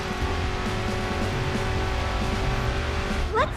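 A car drifts in the Racing Master video game, its engine droning loudly and continuously, with a short rising tire squeal near the end.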